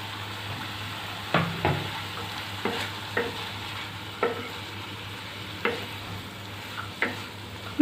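A spatula stirring grated carrot and quiche filling in a frying pan, with a soft sizzle underneath and about ten light scraping knocks in an uneven rhythm.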